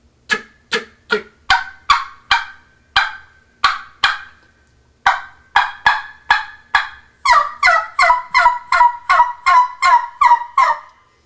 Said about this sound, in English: Clucks, all I'm going to do is tick the air through. Tick, tick, tick, tick.